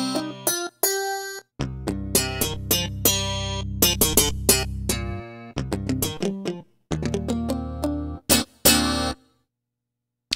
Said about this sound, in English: Let's compare that to the Stratomaster patch in the JD-800.